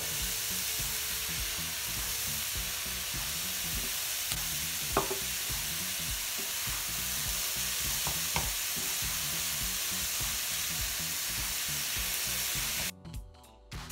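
Ground meat seasoned with salt and pepper fries steadily in a pan as it is broken into small pieces, with a continuous close sizzle and a few sharp scrapes. It cuts off abruptly near the end.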